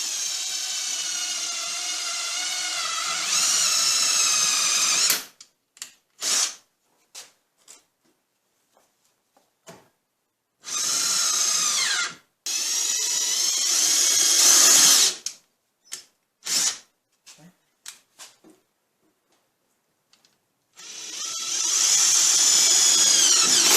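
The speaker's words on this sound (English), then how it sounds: "the first step is going to be drilling a pilot hole and then attaching it with the screws" Power drill boring pilot holes for the screws of an LED light bar bracket on a Jeep Cherokee XJ, loud whining bursts of several seconds separated by short clicks and quiet gaps.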